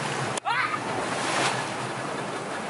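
Sea waves at Nusa Penida island in Bali wash in a continuous rushing surf close by under wind noise, with a brief sharp knock near the start and a swell of spray midway.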